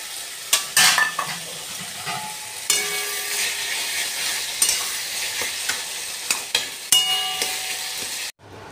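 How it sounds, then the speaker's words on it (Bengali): Fried lentil dumplings being stirred into a thick spinach curry in a pan, with loud sizzling and repeated scraping clinks of a spoon against the pan, alone without talk, ending abruptly. "এবার বড়িগুলো ভেজে রেখেছিলাম দিয়ে দেবো।"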